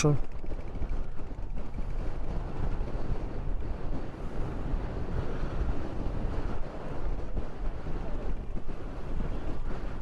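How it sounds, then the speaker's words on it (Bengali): Strong gusts at a remote coastal spot at the southern tip of Bangladesh buffet the camera microphone, a loud continuous low rumble and roar with no break. "বাতাসের কারণে, অতিরিক্ত বাতাস।"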